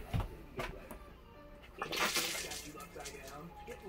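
An RV toilet flushing during winterizing with pink antifreeze: a brief close rushing swirl of liquid about halfway through, with soft handling noises and a voice nearby.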